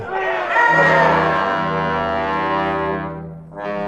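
A crowd cries out together in alarm at a giant robot, a loud drawn-out chorus of voices rising and holding, with a brief dip near the end before it swells again.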